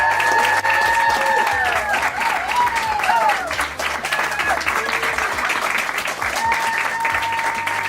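A Saturday-night audience at The 501 claps to welcome magician John Mathai, with sustained close applause and some cheering while a voice speaks and a few tonal sounds ring over the clapping.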